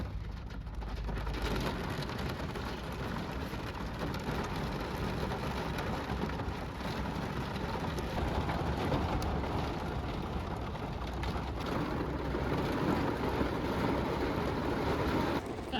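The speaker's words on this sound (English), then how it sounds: "There's the rain, you can hear it." Heavy rain pours onto a car parked at a truck stop during a Florida storm, a constant close wash of drops drumming on the roof and glass with no pauses and no voices.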